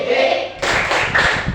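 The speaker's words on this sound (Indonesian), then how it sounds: "yuk kita tepuk kembali yuk" Classroom of pupils clapping in unison for a religious-lesson chant, steady group claps with chanting voices, fairly loud and close, the rhythm picking up after a brief quieter start.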